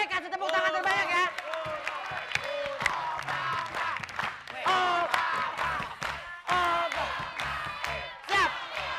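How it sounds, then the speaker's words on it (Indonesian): A television studio audience cheers and claps in short bursts, mixed with lively shouting and chatter from hosts on a music variety show, all loud and close. "Kasih tepuk tangan terbanyak ya"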